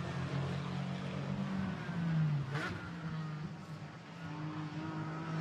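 GT4 race cars, a Porsche and an Aston Martin, battle at Imola as engines whine and rev somewhat distantly, with one car's pitch rising as it passes amid a broad track roar.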